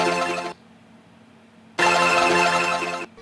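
Distorted, granulated beat layer pushed through a saturator, OTT compression and a redux bit-crusher, heard as two loud, dense, buzzy bursts separated by a quieter gap, with no voices.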